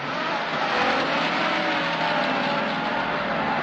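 An old car engine revs under throttle, a loud, continuous raspy roar that holds steady and close without pause.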